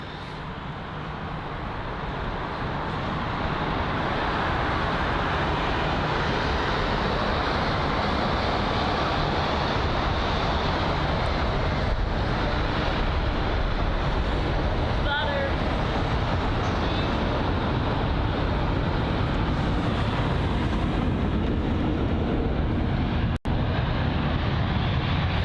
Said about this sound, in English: the 320neo taxiing to the gate area